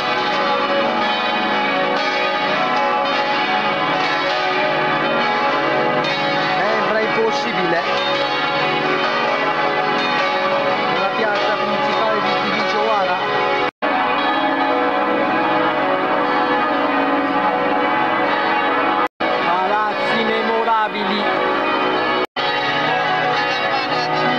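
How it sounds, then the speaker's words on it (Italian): Church bells in a town square in Romania ring for Orthodox Easter, with loud, continuous overlapping peals that carry on steadily for over twenty seconds. "Non omettono di suonare più le campane."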